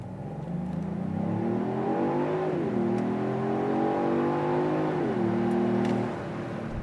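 Supercharged 2025 Genesis GV80 Coupe engine accelerating hard, a loud close drone whose pitch climbs, dips briefly at a shift, then climbs again before easing off, with no talking.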